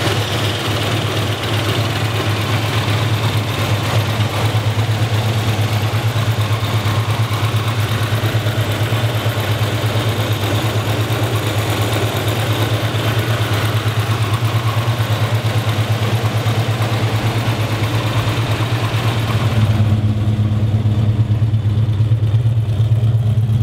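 A 1972 Chevrolet Chevelle engine idles steadily for a long stretch, a loud, close, low rumbling hum that barely changes in tone.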